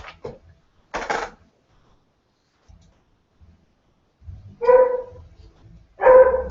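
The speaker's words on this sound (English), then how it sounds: "That dog." A dog gives a few sharp barks, one early and two louder ones near the end, with brief yips in between, close by in a quiet room.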